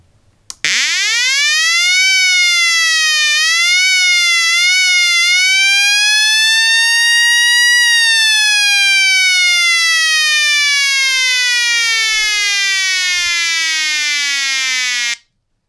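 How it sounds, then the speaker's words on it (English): A homemade transistor siren circuit sounds a loud, continuous electronic wail that sweeps up sharply, wavers at a high pitch, then glides slowly downward for around fifteen seconds before cutting off abruptly. "how to make a great and very powerful siren"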